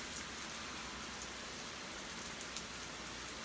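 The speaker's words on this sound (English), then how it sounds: "Can you guys hear the rain?" Steady rain falling outdoors during a live cooking session where cauliflower is being put into pots, a constant dense hiss of drops on surfaces with no pauses, fairly soft and even throughout.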